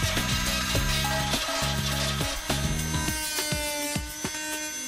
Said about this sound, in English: The FEIN MultiMaster Marine Top isn't just an outstanding saw, it's also a perfect cross-stroke file.